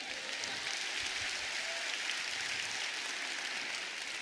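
A church congregation claps during a sermon, a dense, even patter of applause heard from a distance at moderate level, continuing steadily for about four seconds.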